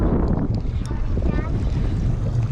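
Steady wind roars across the microphone aboard a fishing boat on a river during spring flathead fishing, a continuous loud buffeting rumble that covers faint background voices.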